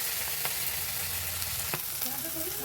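Fish oil frying in a pan with bottle gourd peel, a loud close hiss of sizzling with a few sharp pops and clinks, continuous throughout.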